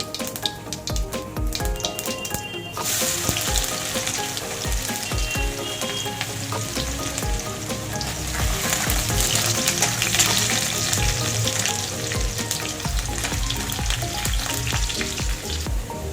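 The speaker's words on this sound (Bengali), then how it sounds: "তেল গরম হয়ে গেছে, এবার দিয়ে দেবো কটা সাদা জিরে, এর মধ্যে দেবো কুচনো রসুন" Cumin seeds and chopped garlic frying in hot oil for a dark duck-egg do-pyaza base, with a loud continuous crackling sizzle that swells when the garlic hits the pan, close up, alone.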